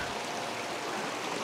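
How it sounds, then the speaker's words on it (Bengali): Water from the Napitta waterfall at Sitakunda running in a stream, a steady broadband rushing flow, fairly near and even throughout, with no voices. "এই যে ঝর্ণার পানিগুলো ওই পাশ দিয়ে বের হয়ে আসতেছে"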